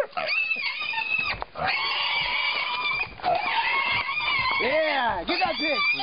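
A pig squeals and screams loudly and continuously, with high, bending cries, while dogs chase it. Excited people shout over the squealing.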